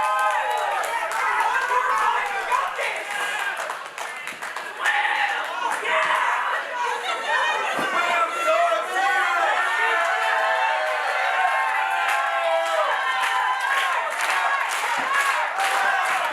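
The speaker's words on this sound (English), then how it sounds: "This crowd is reeling, no pun intended again, is reeling over Phil Shark" An indoor pro wrestling crowd cheers and chatters steadily, with claps and slaps from the ring scattered through the noise, all under a commentator's voice.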